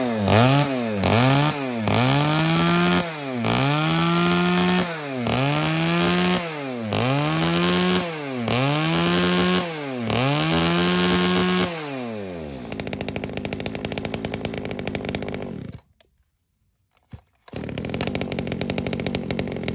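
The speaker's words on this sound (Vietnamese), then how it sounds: "Một mẫu máy cưa Komatsu Genowatt các bác nhé" A Komatsu G11 chainsaw, a used Japanese unit fitted with a bar, revs loudly in about ten repeated rising-and-falling bursts before settling to a rough idle and cutting off briefly, then restarts.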